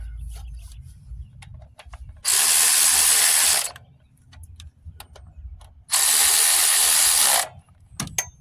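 A power ratchet running down four bolts, two loud sustained bursts of whirring a little over a second each, separated by quieter clicking and handling noises nearby.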